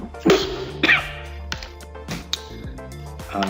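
Two sharp coughs near the start, close and loud, followed by a few fainter throat sounds over a quiet, steady background.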